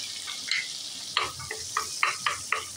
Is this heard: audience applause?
no